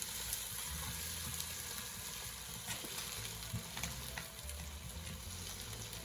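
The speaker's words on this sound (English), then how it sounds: "We're going to let our peas and carrots cook for 3 to 4 minutes." Frozen peas and carrots sizzle in a hot pan for cauliflower shrimp fried rice, a steady close crackle with occasional stirring scrapes and no voices.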